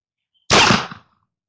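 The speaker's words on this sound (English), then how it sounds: "First shots." A single sharp, loud report from a silver-engraved 1862 Dance Brothers cap and ball revolver, with a short, quickly decaying tail.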